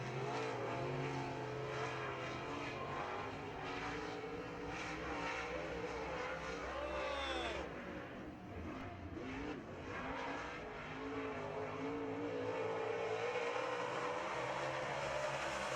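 Modified race cars roar around an oval track in a heat race, engines revving loud and continuous as they power through the turns, with a steady dense roar and passing swells.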